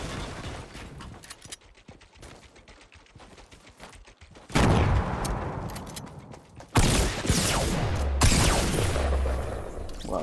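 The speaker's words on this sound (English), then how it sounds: "now somebody's shooting us down" Gunfire during a Fortnite build fight on PS4: scattered, crackling shots at first, then loud bursts of fire that jump in intensity twice and keep going to the end.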